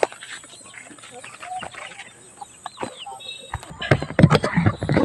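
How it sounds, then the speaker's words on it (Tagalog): Black Australorp chickens clucking on a rural farm in the Philippines, close and fairly soft, the clucks and squawks growing busier and louder toward the end, with someone talking briefly over them. "puntahan natin yung black astrolorp"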